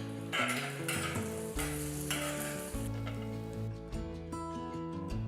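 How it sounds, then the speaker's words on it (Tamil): Broken cashews and raisins fry in a spoonful of hot ghee in a small tempering ladle, a continuous close sizzle with brief stirring scrapes and clinks throughout. "திராட்சை போட்டு வறுத்து எடுத்து வச்சிருங்க."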